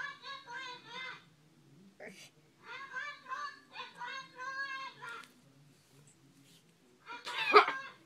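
Chicken-like clucking bursts in short phrases, fairly close, with a sharper squawk near the end, alternating with children talking and laughing.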